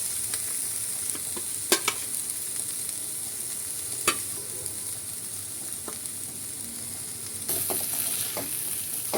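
Spice masala of salt, turmeric, coriander-cumin, garam masala, amchur and hing sizzles steadily in a pan with ginger-garlic paste, with occasional sharp stirring clicks of a spoon against the pan.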